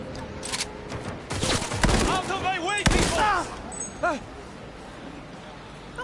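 Rapid gunfire from a gun in the video game Cyberpunk 2077, sharp bursts of shots clustered in the middle of the stretch, mixed with other game effects and voices.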